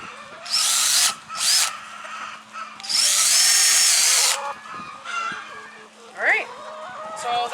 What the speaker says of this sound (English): Then I drill through to connect the holes.